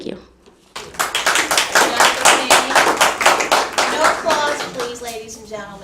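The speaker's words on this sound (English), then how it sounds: "Ladies and gentlemen, no applauding." Clapping at a county commission public meeting starts after a brief quiet moment and builds into steady, fairly loud rhythmic applause from the audience, with a voice coming in near the end.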